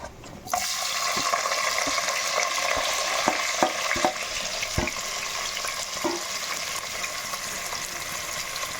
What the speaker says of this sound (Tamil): வெங்காயம் நல்லா பொன்னிறமாக வதங்கி வரட்டும்